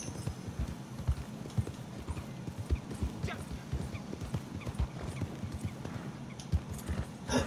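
Horse hooves clip-clopping in the video game Red Dead Online, a brisk steady trotting rhythm close by with an occasional whinny, while people talk over it.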